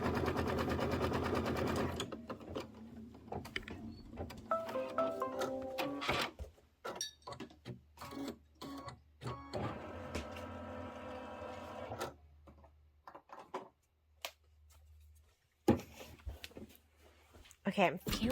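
A domestic sewing machine runs in fast, even bursts while stitching a quilt block, starting and stopping several times between clicks and handling noises, with someone talking now and then.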